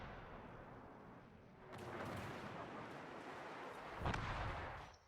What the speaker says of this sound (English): I think that was a wasted volley there on the destroyer